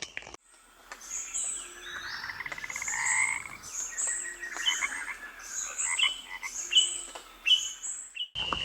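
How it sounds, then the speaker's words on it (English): A chorus of frogs peeps and chirps at night, shrill overlapping calls rising and falling over several seconds, with some calls near and loud and others more distant, with no talking. "we have some frogs peeping and chirping and everything"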